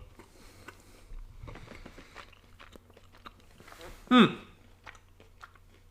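Someone chewing a mouthful of chewy caramel peanut breakfast cereal near a microphone, with soft crunchy bites through the clip and one louder crunch toward the end.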